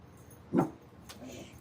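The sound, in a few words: dog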